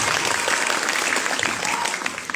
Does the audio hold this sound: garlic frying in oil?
no